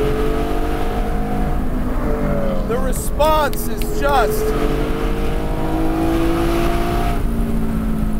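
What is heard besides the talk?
Porsche Spyder 4.5L engine accelerating in canyons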